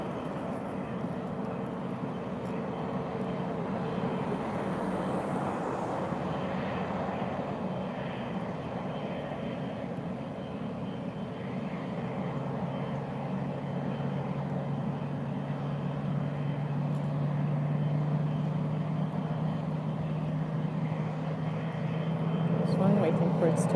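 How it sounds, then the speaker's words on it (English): A jet aircraft idling and taxiing at Lisbon Airport while waiting for the runway to clear, a steady broadband engine rumble with a low tone rising toward the end, under continuous talk. "Waiting for its turn, for the runway to clear out from the previous landing so that it can also take off now."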